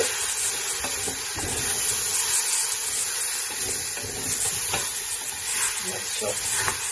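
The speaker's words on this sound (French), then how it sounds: "je fais revenir un peu avec mes épices pour les torréfier un petit peu" Lamb pieces and whole spices with a cinnamon stick toasting in oil in a pressure cooker pot, giving a loud, continuous close sizzle and hiss broken by scraping stirs, with no talk.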